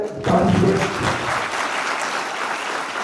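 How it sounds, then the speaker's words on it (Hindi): Students applauding at the Smart India Hackathon 2025 grand finale in Indore, a dense, loud burst of group clapping that starts abruptly and stays steady, with a brief voice at the very start. "तो आप अपने लिए स्टूडेंट्स ताली बजाइए"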